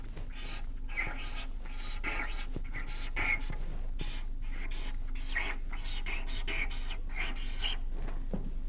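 Pen on paper filling in a table, soft rhythmic scratching strokes in short bursts with pauses, close and quiet, with no talk.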